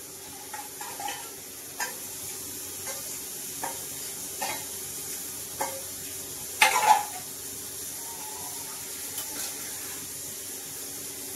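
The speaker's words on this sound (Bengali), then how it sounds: "আমি নেড়ে চেড়ে তরকারিটাকে কষিয়ে নেব" A vegetable curry is sautéed and stirred in a pan, with soft sizzling underneath and regular scraping knocks of a spoon against the pan, one louder clatter midway, close and moderately quiet.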